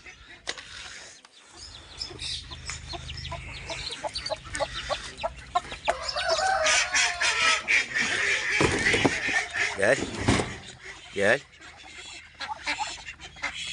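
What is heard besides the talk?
mixed ducks let out of their pen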